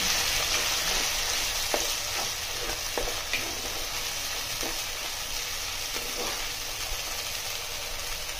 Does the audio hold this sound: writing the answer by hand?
no